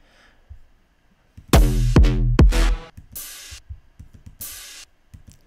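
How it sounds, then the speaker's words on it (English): A programmed drum beat made with the Addictive Drums VST plays alone. It has a loud burst of heavy low hits, then lighter kicks under two washy cymbal splashes. "I made it in Addictive Drums because I really like that"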